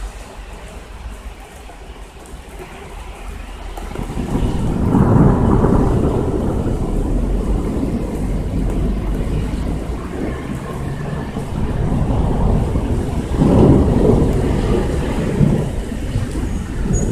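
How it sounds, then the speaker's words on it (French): Thunderstorm over Amiens in 2017, with steady rain hiss and deep rolling rumbles of thunder swelling twice, one long peal in the middle and another near the end, with no voices. "dans cet orage, c'est un petit peu la même chose sinon, quelques petites pluies et quelques éclairs, rien de bien méchant"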